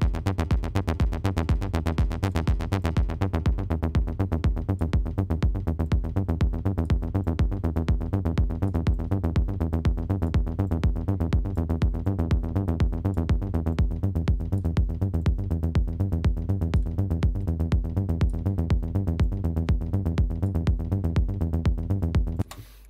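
Serum synthesizer tone shaped by LFO Tools, a fast, evenly pulsing rhythmic chop repeating steadily and loudly for over twenty seconds before stopping abruptly.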